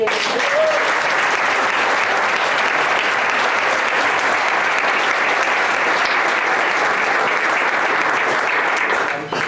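Sustained applause from a crowd at a Barcelona supporters' club tenth-anniversary gathering, welcoming a female club member; dense, steady clapping fills the whole stretch at close range before tapering slightly at the end.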